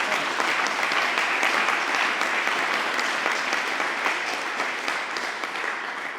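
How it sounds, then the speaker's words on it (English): A crowd applauds steadily at a community ribbon cutting and co-working open house, dense continuous clapping at even strength that eases slightly toward the end. "a round of applause"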